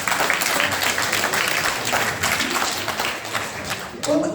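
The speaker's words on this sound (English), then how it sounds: "let's not applaud that" Audience applause fills a town hall meeting, a steady dense wash of clapping from a crowd sustained for several seconds before easing slightly near the end.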